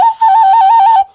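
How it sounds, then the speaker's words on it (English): A whistle bought on the beach is blown in one long, loud, steady blast with a brief break near the start, heard alone with no talking. "I have a whistle that I bought on the beach."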